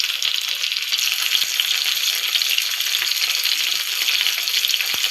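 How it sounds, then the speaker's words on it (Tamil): Dried fish (karuvadu) fries in hot oil with a steady, dense sizzle and crackle throughout, loud and close, with no voices over it. "நல்லா ஃப்ரை ஆகட்டும்."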